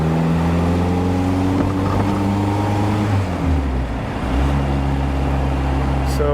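A 1955 Austin Healey 100 BN1 engine drones steadily at about 1800 RPM while cruising, a continuous low rumble with road and wind noise throughout and a brief dip in the middle.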